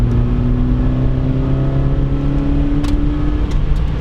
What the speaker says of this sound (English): Valve is closed. Yeah, it's all induction noise.